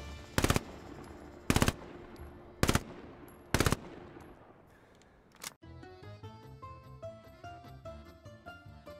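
Short bursts of PPSh submachine gun fire in the World War II shooter Hell Let Loose, four sharp bursts spaced about a second apart with decaying echo, followed by a soft musical passage.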